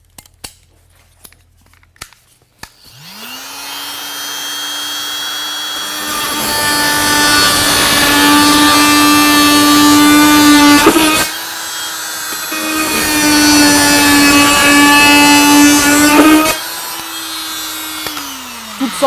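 A Fein Multimaster FMM350Q oscillating multi-tool cuts into wood with a loud, steady buzzing whine, starting up after a near-silent moment, stopping briefly in the middle, then running again before winding down.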